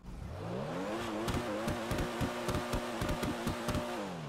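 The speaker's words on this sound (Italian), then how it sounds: "vi devo assolutamente fare sentire il rumore dell'auto" A tuned car engine in GTA 5 hums and rises in pitch, with a rapid series of sharp clicking knocks over it, fairly close and without talk.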